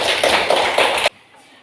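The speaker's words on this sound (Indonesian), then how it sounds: "tepuk tangan dulu untuk Akil yang sudah bertanya." Classroom applause for a pupil during a lesson, a brief burst of several close claps in an uneven rhythm that stops abruptly after about a second, then near silence.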